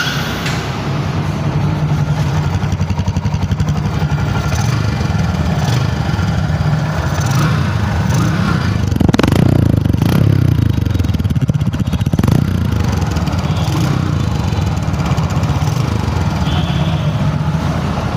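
A Bajaj CT 100 motorcycle idling close by, its engine running with a steady loud chugging drone and mechanical clatter, swelling briefly near the middle before settling back to an even idle.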